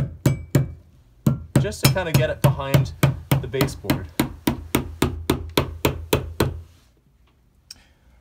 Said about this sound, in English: I'm going to tap it with the hammer